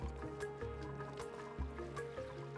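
Water dripping in the Oxygen Not Included video game: soft, quiet plinks and squishy drips at an irregular pace over a low steady hum.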